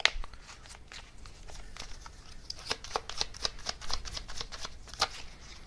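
Oracle cards from a Divine Circus deck being shuffled by hand, a quick run of soft papery flicks and riffles, close and fairly quiet, with no talking.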